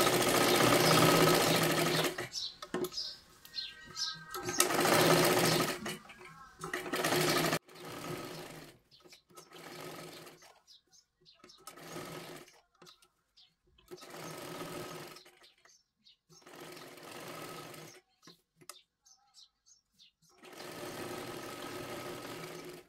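An electric sewing machine stitching a princess-cut blouse whirs in repeated bursts of a few seconds each, separated by short pauses and quiet gaps, close and moderately loud.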